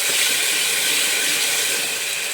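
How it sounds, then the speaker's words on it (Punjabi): Paste of ground onion, garlic and green chili frying in a pan, giving a steady loud broadband sizzle and hiss that holds evenly without a break, with no talking over it. "ਚੰਗੀ ਤਰ੍ਹਾਂ ਅਸੀਂ ਫਰਾਈ ਕਰਾਂਗੇ ਜਦ ਤੱਕ ਲਾਲ ਨਹੀਂ ਹੋ ਜਾਂਦਾ ਮਸਾਲਾ"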